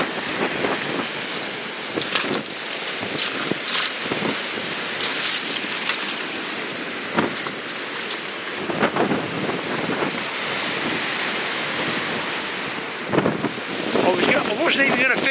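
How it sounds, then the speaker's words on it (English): Gale-force southeast wind of over 20 knots blowing across a beach at night, roaring and buffeting the microphone continuously, with surf crashing beneath and loud gusts throughout. "That tells you it's blowing a gale from the southeast."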